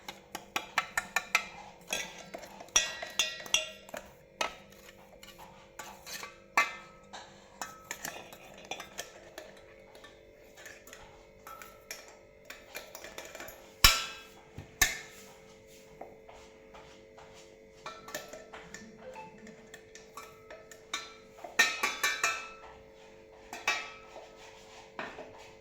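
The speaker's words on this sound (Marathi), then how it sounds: "आता हे सारण आपण पातेल्यामध्ये काढून घेऊ." Cupcake filling scraped out of a mixing bowl into a pot, a long run of soft clinks, taps and scrapes of utensil against metal, close and moderately quiet, no voices.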